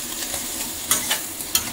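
Choi sam and garlic stir-frying in a hot pan, a steady broadband sizzle with a few sharp scraping and tossing clicks from the utensil, close and moderately loud with no talking.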